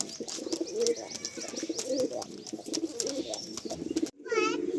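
Pigeons in a full loft coo in soft, repeated throaty rolls close by, with occasional chirps and wing rustles mixed in.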